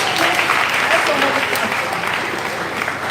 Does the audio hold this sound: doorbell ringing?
no